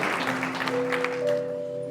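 Applause from a church congregation at an ADEPR service, a steady mass of clapping running the whole time, joined partway through by sustained tonal sounds, likely a keyboard or voices.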